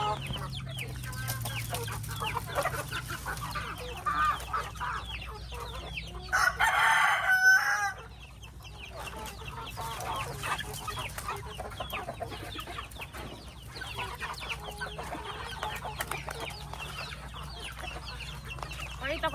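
Several native chicken roosters crow and hens cluck around a farmyard, one loud crow standing out near the middle, with other crowing and clucking continuing throughout.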